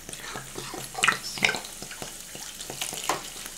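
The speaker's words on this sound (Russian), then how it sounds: "Ох, какие пузырьки шуршат" Carbonated salty mineral water fizzing in a pot holding four litres of okroshka base, a quiet crackle of popping bubbles with a few brighter bursts, close and steady.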